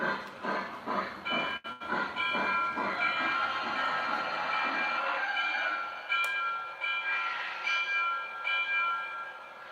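A Lionel Pennsylvania #460 Lindbergh Special 4-4-2 toy train runs on a layout, with steady rhythmic clicking of wheels over track joints and a continuous whirring motor hum, close and fairly loud with no talk.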